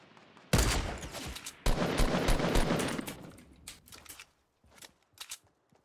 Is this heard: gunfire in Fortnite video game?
yes